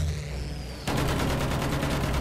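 Battlefield 1 video game gunfire: a sudden loud burst cuts in after a quiet stretch and becomes a rapid, steady stream of shots that runs to the end, close and dense, with no talking over it.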